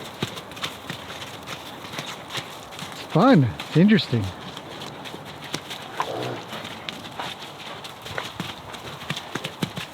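Horses gallop and play, their hooves drumming a rapid, continuous clip-clop on the ground, with a loud whinny bursting out partway and someone speaking now and then.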